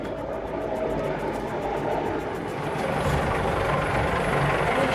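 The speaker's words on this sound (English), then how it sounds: "Helicopter approaching." A rescue helicopter approaching a lifeboat at sea, heard as a steady, broadband rotor and engine roar that holds level throughout, with faint rhythmic blade chop and no voices.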